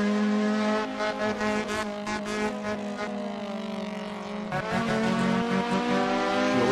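Racing car engine in the Assetto Corsa driving game, its loud, clear tone climbing in pitch and then dropping sharply at each gear change, repeated several times, with no talk over it.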